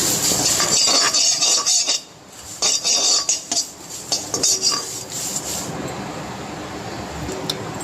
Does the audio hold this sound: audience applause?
no